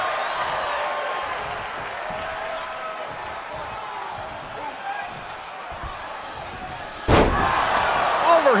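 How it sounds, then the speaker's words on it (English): A wrestler is slammed onto the ring mat at a wrestling match, landing in one sharp, loud impact near the end, after a stretch of crowd noise and commentary. "Slams him into the mat."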